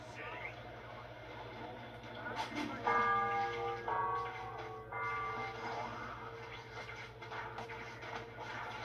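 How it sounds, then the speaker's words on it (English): A church bell tolls in the video game Spider-Man: Web of Shadows, with a couple of resonant ringing strikes that hum and decay over a low continuous game ambience and faint voices. "We have to ring the bell."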